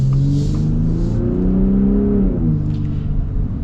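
A 2024 Ford Raptor truck with the 37 package accelerates hard, its loud engine roar climbing steadily in pitch for several seconds before settling, with no voices.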